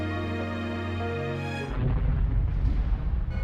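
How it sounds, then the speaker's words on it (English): A sudden rumbling explosion in Phantasy Star Online 2 cuts off a sustained musical tone, leaving a loud low roar that continues to the end. "That's an explosion."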